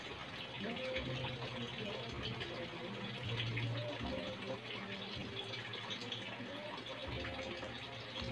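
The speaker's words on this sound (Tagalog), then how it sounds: "So, bubuhusan natin ang tubig." Water poured into a small DIY betta fish aquarium, a steady close splashing fill running nearly unbroken throughout, with a brief lower gurgle midway.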